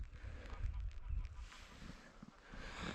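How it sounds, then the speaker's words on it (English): A pair of geese honk faintly overhead while flying high above a hillside in wild Scottish landscape, a few distant calls over quiet outdoor air. "Wow, there's two geese."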